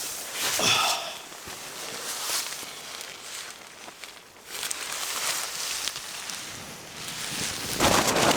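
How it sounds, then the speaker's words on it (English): Strong, gusty lakeside wind at Lake Volaia buffets the microphone in uneven surges, rising and falling with brief lulls, loud and close with no speech. "It's pretty windy today, so I had to carefully set the tent because the wind is quite strong"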